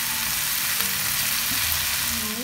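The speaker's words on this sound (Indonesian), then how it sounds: "Nah, ini lanjut ayamnya saya goreng ya" Chicken pieces fry in hot oil in a pan, giving a dense, continuous sizzle and crackle, close and steady with no talking.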